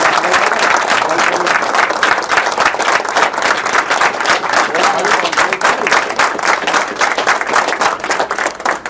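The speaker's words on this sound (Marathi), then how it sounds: "तर सध्या तुम्हाला तुमच्या स्वतःला शाबासकी देण्यासाठी टाळ्यांचा गजर केलाच पाहिजे" A large crowd at a public gathering claps and cheers without pause, dense and loud applause filling the whole stretch, close and sustained with no letup.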